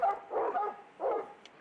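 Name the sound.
hound dogs barking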